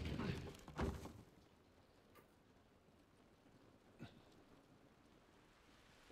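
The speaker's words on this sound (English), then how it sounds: "It's raining." Steady soft rain patters throughout in The Last of Us Part II, with a low thunder rumble near the beginning and a faint crack later, quiet and distant.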